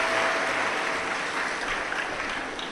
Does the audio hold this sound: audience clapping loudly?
yes